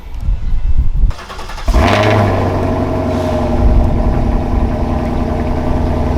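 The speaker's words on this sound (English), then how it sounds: "This is what the factory idle sounds like while the valves are open." A Ford Mustang Shelby GT500 engine starts and settles into a steady, fairly quiet idle on its stock exhaust with the valves open, a low continuous rumble close to the microphone.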